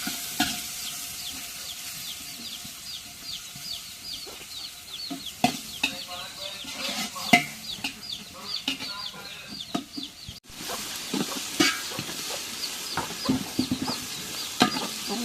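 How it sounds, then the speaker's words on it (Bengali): Food is stirred in an oiled frying pan with a soft sizzle. Scrapes and knocks of the spoon come through, chickens cluck in the background, and a muffled voice is heard now and then. "তারপর একটু নাড়া দিয়ে দিই।"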